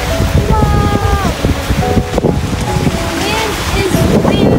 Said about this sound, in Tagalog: Wind is windy.